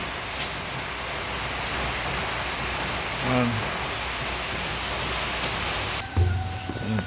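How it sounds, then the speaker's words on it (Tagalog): Steady heavy rain pours down on a poultry farm in a dense, continuous wash of noise, with a brief louder thump near the end. "wala pong tigil ang ulan simula pa po kagabi"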